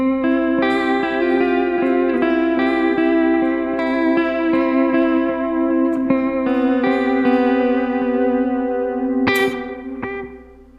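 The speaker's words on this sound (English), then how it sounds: "Here's something with the delay and reverb on." An electric guitar runs through a Line 6 HX Stomp with delay and reverb engaged, notes and chords ringing out with repeating echoes and a lush tail, played alone, before a final bright strum fades out.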